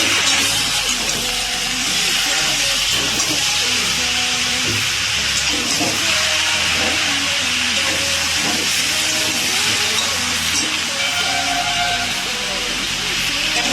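Chilli chicken sizzles steadily in a hot pan as soy sauce goes in, a loud continuous hiss with faint clatter under background music or voices throughout.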